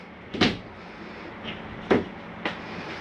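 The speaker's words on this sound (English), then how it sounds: "make sure your bathroom door is strapped back for travel." The bathroom door of a Jayco Seneca 37M motorhome being secured for travel, giving a few dull knocks and rattles, two stronger bumps among lighter taps, heard alone over low background hiss.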